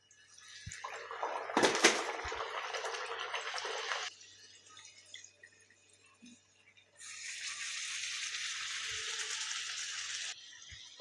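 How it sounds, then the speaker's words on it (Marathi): Tomato puris frying in hot oil, a loud bubbling sizzle in two long bursts with a quieter stretch between, no talking. "तर आता आपण अशा सगळ्या पुऱ्या अशा तळून घेऊया"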